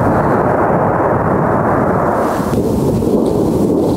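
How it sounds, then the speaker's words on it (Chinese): Dense gunfire and artillery on the Avdiivka front line in eastern Ukraine, heard as a loud continuous rumble of booms and blasts that blend together into a sustained roar throughout. "现场还能听见密集枪炮声"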